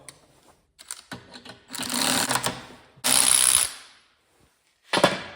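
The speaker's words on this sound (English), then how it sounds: "So I use a thread chase tool first. I just chase the threads to clean them up." A thread chase tool runs along bolt threads on the front suspension of a 1970 GMC C2500: close, gritty metallic ratcheting and scraping in several bursts, with short pauses between them and a final brief burst.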